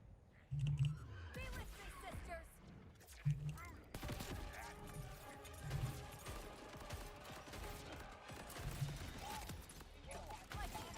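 Hand cannon shots in a shooter video game crack out as a few sharp, loud bursts spread across the clip, layered with clattering mechanical effects and someone talking over them.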